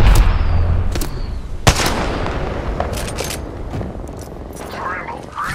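Gunfire in the shooter Apex Legends: a few sharp, loud shots and a short burst ring out near the listener over a busy game background, with a voice speaking over them.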